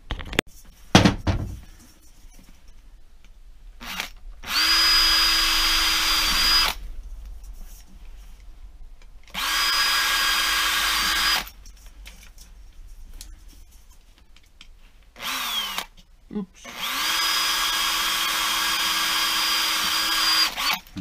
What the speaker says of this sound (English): then drill all these bits out